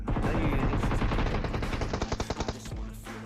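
Rapid automatic gunfire in the PUBG battle royale game, several fast bursts of shots close and loud, the rhythm breaking into separate cracks toward the end.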